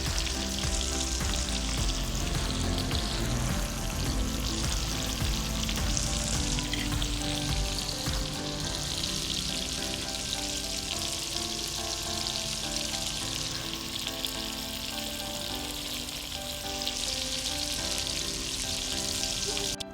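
Chira fish pieces deep frying in hot oil bubble and sizzle steadily for a long stretch, a dense, close crackling hiss that stays loud and even, with a faint melodic tune underneath.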